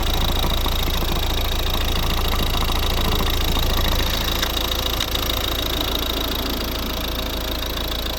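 A 2012 Volvo V50 1.6 D2 diesel engine idles close by with a steady, clattering knock, loud and unchanging throughout.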